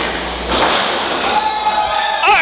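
A wrestler's kick lands with a sharp thump during a wrestling match, followed by a broad crowd roar and a rising whistle-like tone near the end.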